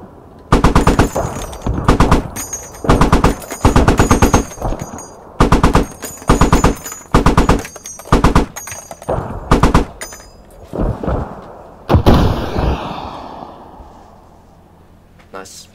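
Machine-gun fire in the military shooter Squad: loud, close bursts of rapid automatic shots repeating in a steady on-off rhythm, ending with a heavier blast and fading rumble, while players talk over it.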